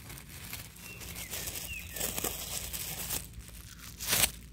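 A plastic bag is handled and crinkled outdoors in a garden, giving soft, irregular rustles and crackles. A sharper crinkle comes near the end, and faint birdsong sounds in the background.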